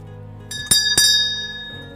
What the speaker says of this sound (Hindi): देख सके संगवारी हो घंटी बन रहा है, बजा लेते हैं